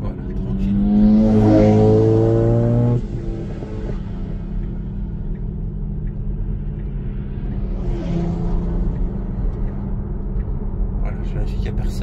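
Tesla Model 3 on a slow cooldown lap at the Clastres circuit, heard from inside: a steady low road rumble and electric whine, a rising tone early that drops after about three seconds, with someone talking over it.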